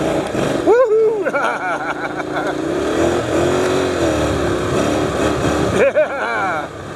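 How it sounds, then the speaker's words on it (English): A Honda NC700X DCT motorcycle spins its rear wheel, the engine revving and whining in rising and falling surges while a person shouts excitedly over it. "I love that wheel spin, that's always great."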